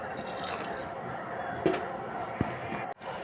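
A quarter glass of water is poured into a pan of sautéed coriander stems while making pulicha keerai kadaiyal, a steady close trickle with a couple of small splashes and clunks.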